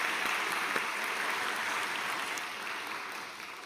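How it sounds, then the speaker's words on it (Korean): A church congregation applauds steadily during a worship service, a dense wash of clapping from many hands that slowly fades toward the end, with no voices over it. "우리 다시 한번 감사의 박수 하겠습니다."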